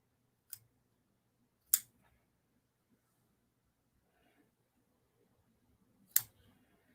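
Scissors trim cotton wick on an RDA vape build in three sharp, isolated snips spaced a second or more apart. The cuts are close and crisp against a very quiet background.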